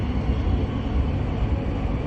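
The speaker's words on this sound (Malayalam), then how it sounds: "ദാറുൽ ബൈദയിലേക്ക് പോകുന്ന ട്രെയിനിലേക്കാണ്, മെട്രോയിലാണ് ഉള്ളത്." Riding aboard a Riyadh Metro train on the blue line, a steady, loud, low rumble of rolling wheels and cabin noise fills the whole stretch without a break, heard from inside the car with no talking.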